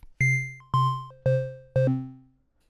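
Four evenly spaced square-wave synth notes at a higher octave with a buzzy, hollow tone, each striking sharply and fading, with short pitch slides between them.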